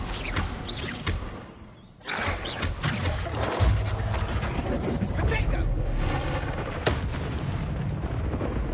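Fire spell Incendio cast repeatedly in the video game Hogwarts Legacy, loud booming, roaring bursts with crackling whooshes over dense continuous combat noise, a brief dip before a heavy blast.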